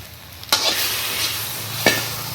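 Okra sautéed with curd in a pan for a Karaikkudi-style vendaikkai puli mandi, giving a steady close sizzle with two sharp spoon scrapes against the pan.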